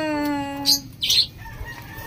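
A bird lets out a clear tonal call, followed by two short bursts of fluttering wing flaps close by, then quiet.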